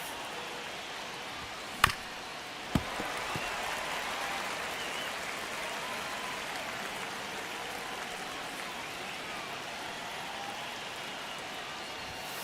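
Steady crowd murmur fills a baseball stadium in the MLB The Show 25 video game during a tense ninth inning of a one-run Brewers–Cubs game, with two sharp impacts early and no talk.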